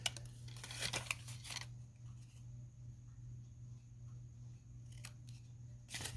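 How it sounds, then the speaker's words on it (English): Scissors snipping paper to form a tab at a fold line on a hidden paperclip craft, a few quick close cuts near the start and again near the end, over a steady low hum. "I am going to clip right here so that it looks like a tab"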